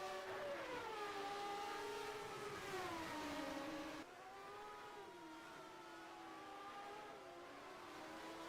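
Formula 1 race car from the 1990 season at Interlagos in the rFactor racing game, a Williams among the field, its engine droning and shifting pitch steadily throughout, loud and continuous with no talk.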